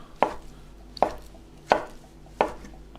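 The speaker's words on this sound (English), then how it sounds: "So slice up your mozzarella. Now what I want to do is slice down the other way." A knife cuts down through buffalo mozzarella onto a chopping board, four distinct close thuds spaced about a second apart with quiet pauses between, no voices.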